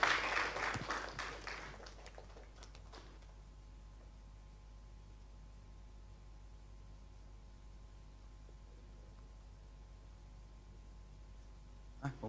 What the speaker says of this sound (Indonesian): Siapkan hati, beri tepuk tangan